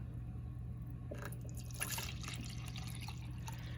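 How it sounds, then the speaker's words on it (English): Mixed black-and-white darkroom developer and stop bath, turned purple, poured back into a container, giving a faint, close trickle and light splashing over a low steady hum, with no voices. "I would pour it back into that other container"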